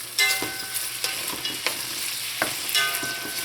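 Potatoes frying in a pan alongside okra on medium heat: a steady soft sizzle with a few scraping stirs of a utensil, close up and without talk.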